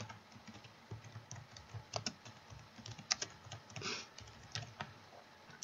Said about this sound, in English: Just type right over it.